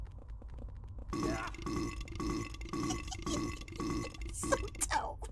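Burping enemy from the Silent Hill video game, a series of wet, guttural belches and grunts in repeated pulses, fairly close and mixed with a low background.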